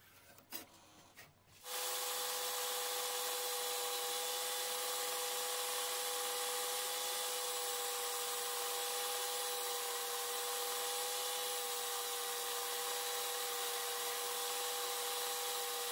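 Sanding the sharp edges of a molded solid fiberglass and carbon bow gives a steady, close abrasive hiss with a faint constant whine. It follows a brief rough start and continues evenly with no talking.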